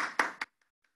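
Hand claps from a church congregation giving praise during a worship service, two sharp bursts of clapping that stop abruptly, followed by a couple of faint isolated taps in near silence.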